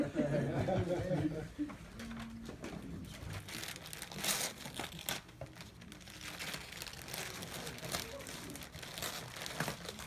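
Gift wrapping paper being torn open at a 100th birthday party, with continuous crinkling and ripping up close while people chatter and laugh in the background.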